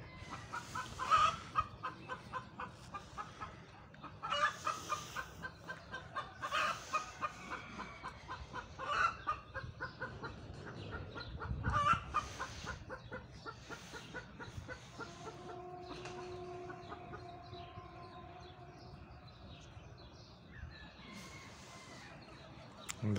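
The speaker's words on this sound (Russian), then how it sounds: "Вот курочки сидят" Chickens cluck repeatedly at varying distances, with soft murmuring clucks between louder bursts and a rooster's call near the end, no talking.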